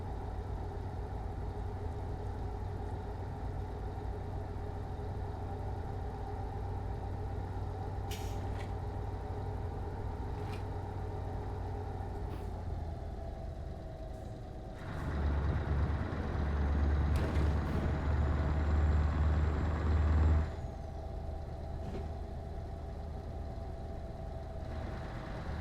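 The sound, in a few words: truck engine driving in video game Euro Truck Simulator 2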